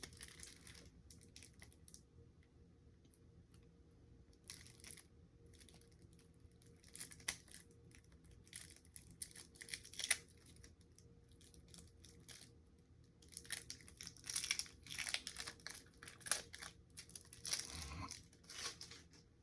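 Plastic packaging of an Albaz Strike Yu-Gi-Oh structure deck being torn open: faint, intermittent crinkling and crackling in irregular bursts, with a few louder rips and crunches toward the end.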